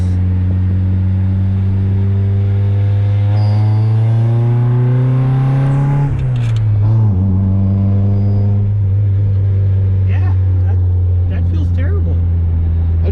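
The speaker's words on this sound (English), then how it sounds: "I should have moved the camera back as you accelerated" A 1991 Honda Civic sedan on new coilovers accelerates, its engine note climbing steadily, briefly dropping at a gear change, then rising again, loud and close from inside the car.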